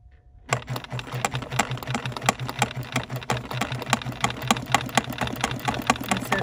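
Bernina sewing machine stitching steadily, a rapid, even mechanical clatter that starts abruptly and runs on at close range with regular needle ticks and a low motor hum.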